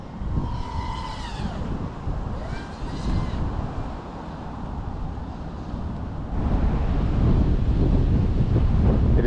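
Strong wind buffets the microphone in a steady broadband roar, growing louder toward the end, with faint tonal whine from a small motor of an Axis Flying Argus F7 Pro drone early on.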